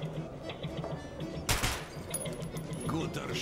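A single sharp gunshot cracks out midway through a quiet indoor shooting range scene, over a low background hum with faint voices.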